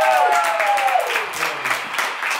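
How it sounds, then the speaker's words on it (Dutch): Short burst of clapping from a small group of friends, following a fading voice at the start, with uneven claps that thin out toward the end. "Even een applaus"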